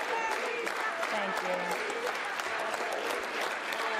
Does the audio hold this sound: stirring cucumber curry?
no